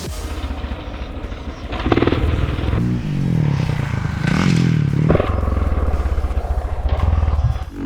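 A motocross motorcycle roars through a jump, its engine revving hard, dropping off in the air, then surging again with clattering thumps on landing before settling into a steady loud drone.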